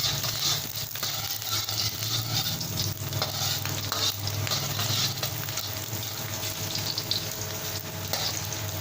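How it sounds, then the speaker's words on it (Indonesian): Garlic frying in hot oil in a wok for chicken soup: a loud, steady sizzle with continuous stirring and scraping, close up and alone with no talking. "Setelah minyaknya cukup panas, kita bisa masukkan bawang putih terlebih dahulu"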